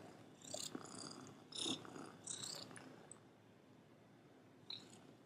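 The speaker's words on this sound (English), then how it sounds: "Are you purring? Can you hear her?" A contented pet cat purrs softly after drinking a little milk, close but faint, with a low steady rumble and a few brief rustling bursts over quiet room noise.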